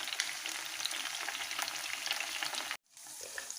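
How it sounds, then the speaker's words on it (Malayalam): Curry leaves sizzle in hot coconut oil for a chicken 65 dish, a steady dense crackle that holds loud and continuous, drops to silence for a moment, then resumes. "ഞാനിവിടെ വെളിച്ചെണ്ണയാണ് എടുത്തിരിക്കുന്നത്. ഇതിലേക്ക് നമുക്ക് കുറച്ച് കരിവേപ്പില കൂടി ഇട്ട് കൊടുക്കാം."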